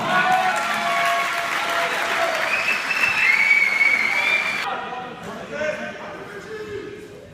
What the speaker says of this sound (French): Je vous demande d'applaudir, mesdames et messieurs, Joseph Casanova.